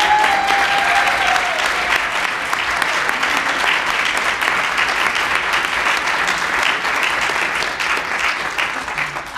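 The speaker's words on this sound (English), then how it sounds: "Jason, a round of applause for you." Sustained applause from a concert audience after thanks to a former intern at a choral program, a dense steady roar of many hands lasting throughout, slowly tapering near the end.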